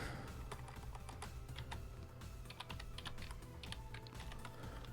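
Rapid, uneven clatter of keys on a computer keyboard as Python code is typed, close and fairly quiet, with no voice.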